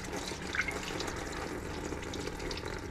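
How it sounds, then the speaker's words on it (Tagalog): Hot water poured into a cooking vessel, a soft continuous splashing trickle, fairly quiet and steady with no voices. "Tapos, lagyan natin ng mainit na tubig."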